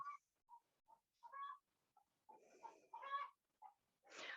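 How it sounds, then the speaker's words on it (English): A backyard hen clucks after laying an egg, drawn-out squawking calls and shorter clucks in an uneven series, heard faintly through a window. "the sweet sounds of my chicken telling us she's laying an egg"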